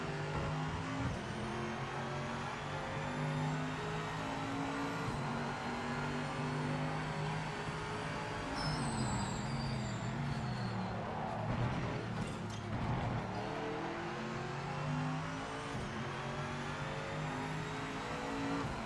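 Race car engines in the Project Motor Racing video game drone steadily and loud for the whole stretch, rising and falling with revs and gear shifts as cars run close together, with a brief squeal of tyres partway through.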